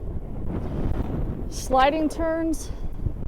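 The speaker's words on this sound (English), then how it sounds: "I apologize if it gets a little windy. It's a little breezy up here right now." Low, rumbling wind buffets the microphone steadily throughout on a mountain ski slope, with someone speaking briefly near the end.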